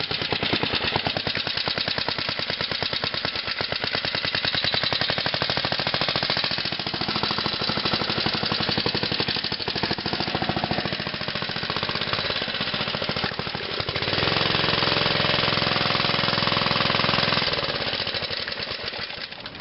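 A Montgomery Ward mini bike engine runs after sitting for two years. It makes a loud, rapid, rattling chatter that stays steady throughout and rises briefly as the throttle opens.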